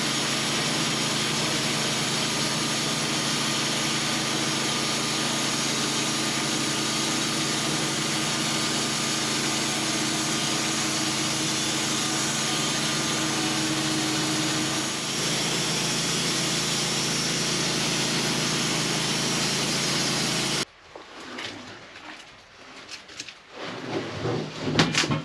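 A sawmill cuts a board off a spruce or pine log with a loud, steady engine-driven whine and buzz of the blade running continuously, then abruptly stops, leaving quieter clatter and handling noises.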